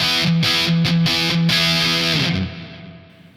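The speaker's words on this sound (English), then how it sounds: "a little bit of delay, a little bit of reverb, so that's now going to sound like this" Electric guitar notes ring out in a short melodic phrase, washed in echoing delay and reverb, then the last tone fades into a lingering tail.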